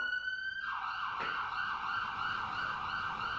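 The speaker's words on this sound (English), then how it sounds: "I hear the ambulance outside" An ambulance siren sounds outside in a steady, loud wail that drops in pitch early on and then holds a wavering tone. A brief click cuts in partway through, and no voices are heard.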